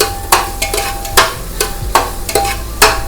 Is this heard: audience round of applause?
no